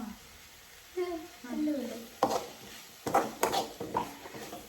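Onions frying with turmeric, coriander powder, garam masala and chicken masala for a homemade chicken biryani, giving a steady sizzle with spoon scrapes and clinks against the pot, and a voice murmuring briefly early on.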